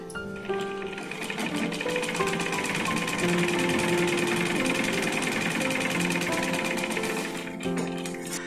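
A sewing machine stitches darts on a blouse, its rapid, even mechanical chatter running continuously up close for several seconds before slowing at the end.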